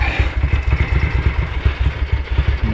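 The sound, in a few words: Ducati 900SS bevel engine idling low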